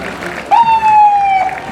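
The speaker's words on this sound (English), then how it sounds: "An extra big round of applause for these guys." A parade crowd at the Carnival of Flowers applauds the rural fire brigade, a steady wash of clapping with a loud, sustained whistle or siren tone cutting in halfway and holding to the end.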